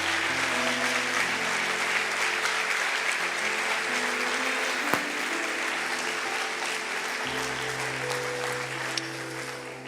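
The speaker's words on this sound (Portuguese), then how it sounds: "dê para Jesus uma forte salva de palmas." Audience applause and cheering at a Christian church service, a dense steady wash of clapping that holds for the full stretch with no break.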